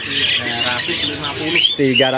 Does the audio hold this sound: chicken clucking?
no